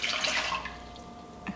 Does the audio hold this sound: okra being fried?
no